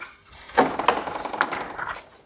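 Snips and clicks from cutting a wiring harness free on the front bumper of a 5th-generation Toyota 4Runner, a few sharp close taps with plastic rustle over about two seconds, without speech.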